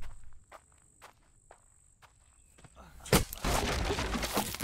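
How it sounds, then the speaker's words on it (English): Footsteps in the dark survival video game The Infected, a run of quiet separate steps, then a louder rush of rustling noise near the end. "I hear footsteps. I'm going to assume it's not dangerous."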